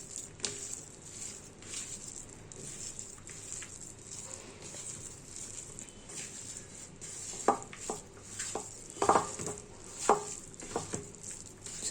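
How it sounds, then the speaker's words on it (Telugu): Chana dal vada batter mixed by hand in a bowl, a soft continuous squelching and stirring with a few sharper pats and clicks near the end, close and fairly quiet, no talk. "ఇలా ఒకసారి చేయితో బాగా మిక్స్ చేసుకోవాలి."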